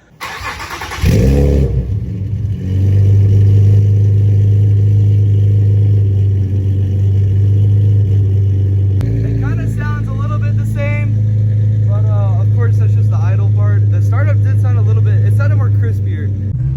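Infiniti G37 fitted with PPE longtube headers and an ISR single exhaust, cranking to a loud start, then a deep, raspy idle with a brief blip of revs, close and loud while people talk excitedly over it.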